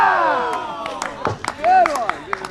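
Spectators at a pro tennis event in Fiji making chatter and shouting out, with scattered claps and calls rising and falling around a voice talking near the microphone.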